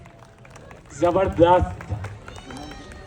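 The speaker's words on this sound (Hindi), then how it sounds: "जोरदार तालियां हो जाए संगीता आंटी के लिए" Guests at a 50th wedding anniversary party break into applause, a short burst of clapping mixed with cheering voices, close and loud for about a second before fading under talk.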